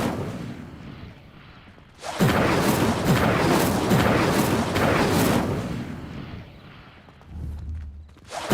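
A fire spell in Hogwarts Legacy erupts after a quiet lead-in, a loud roaring blaze with rhythmic surging bursts for about four seconds, then fading to a low rumble before a brief final swell.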